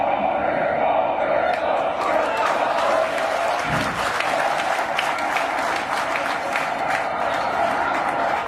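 A large, dense crowd at a Narendra Modi political rally roars and cheers continuously, with applause and shouted chants mixed into a loud, sustained wall of sound.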